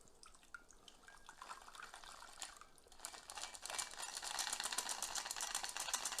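Alcohol-free mocktail mixed with soda water is poured from a shaker into a glass, ice held back. The liquid splashes softly and fills in a quiet, close trickle that grows steadier and fuller toward the end.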